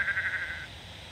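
A sheep bleats in the video game Sudeki, one short wavering bleat close and clear that fades after about half a second over a low game ambience, with no talk.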